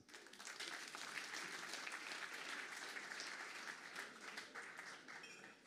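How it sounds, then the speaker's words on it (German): Studio audience at a German game show applauds in a dense, steady wash of clapping that stays loud and even for several seconds with no speech over it. "Eine Runde weiter Applaus."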